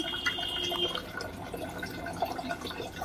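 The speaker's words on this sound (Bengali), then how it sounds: "ফ্রেশ একটু জল এখানে আলাদা করে নিয়ে নিচ্ছি" Fresh water poured into a bowl for washing figs, a steady soft splashing and trickling stream, close and gentle, with no talking.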